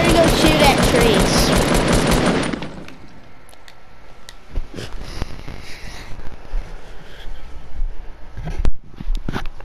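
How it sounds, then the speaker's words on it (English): Fortnite gunfire aimed at trees starts as a dense, loud burst of rapid shots with a speaking voice over it, then thins to scattered single shots and impacts. "I'm gonna go shoot at trees."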